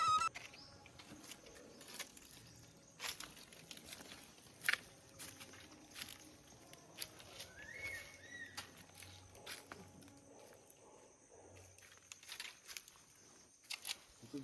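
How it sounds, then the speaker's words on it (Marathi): Birds call in dense green forest beside the Sapteshwar temple, with faint cooing and scattered chirps against a quiet background. "पक्ष्याचा आवाज येतोय ना"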